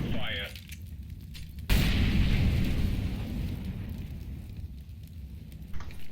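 A Molotov cocktail bursts into flames on the Cache map in a first-person shooter game: a sudden loud whoosh of fire erupts partway through, followed by a sustained roaring, crackling burn that slowly fades.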